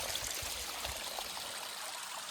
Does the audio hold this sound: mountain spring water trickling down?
yes